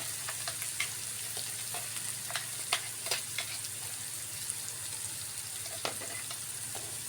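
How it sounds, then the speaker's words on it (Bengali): A blended spice paste fries in oil for the filling of chepa puli, a Mymensingh dumpling. A steady, fairly quiet sizzle runs throughout, dotted with scattered small pops and spatters, with no voices. "কিছুক্ষণ একটু ভালো করে ভেজে নিব যাতে কাঁচা বাপটা না থাকে"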